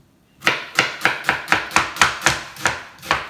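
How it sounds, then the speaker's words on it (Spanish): Knife chopping onions on a cutting board for red aguachile, about nine crisp, evenly spaced strikes, close and clear, with no talking. "A mí me gusta con mucha cebolla."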